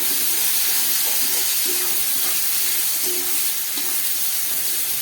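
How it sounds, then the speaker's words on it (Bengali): Splash of water hitting hot powdered spices including dry chilli powder in a pan, a steady loud hiss and sizzle throughout with no talking. "দিয়ে দিচ্ছি একটু জল, যাতে গুঁড়ো মশলাটা পোড়া না লাগে।"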